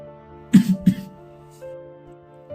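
Two short, harsh coughs from a person coughing up blood, in quick succession over a faint steady hum, near and fairly loud.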